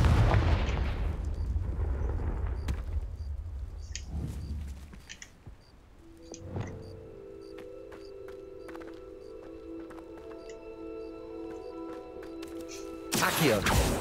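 Booming spell explosions from a Harry Potter video game, the Confringo fire curse, burst loudly at the start and again near the end, with in-game tones and effects in between.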